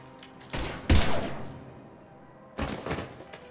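Gunfire in the video game Mass Effect 3: a short burst of heavy shots with booming low impacts, then a pause and a second rattling volley, fairly close, with no speech over it.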